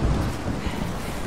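A thunderstorm with gusting wind in the video game Rise of the Tomb Raider roars as a steady, loud, dense rush of noise, with low rumbling underneath and no voices.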